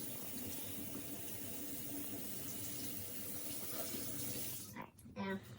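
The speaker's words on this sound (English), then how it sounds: "And once this is warm, you want to rinse it out." Warm water running steadily from a tap as a rag is rinsed under it while cleaning a car, a constant close hiss that breaks off into splashy wringing near the end, with a voice speaking.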